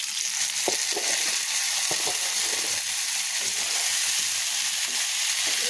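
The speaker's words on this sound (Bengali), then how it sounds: "এই যে আমার বাদামি করে ভাজা হয়ে গেছে, এবার সিদ্ধ শাকগুলো এর ভিতরে দিয়ে দেবো।" Boiled data greens are fried in oil with browned onion and garlic, giving a loud, steady, close sizzle broken by occasional light stirring taps, with no talking.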